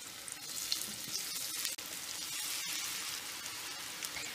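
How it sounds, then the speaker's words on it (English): Continuous hissing sizzle of shredded potatoes frying in hot oil in a frying pan, steady and close, with occasional small pops and crackles. "Heat about 2 tablespoons of cooking oil in a frying pan and drop the potatoes in."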